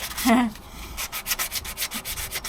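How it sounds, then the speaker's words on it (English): Rhythmic sanding, a rough back-and-forth rasp repeating steadily at close range, with a short tonal squeak near the start. "when I've finished sanding this, which is nearly done now"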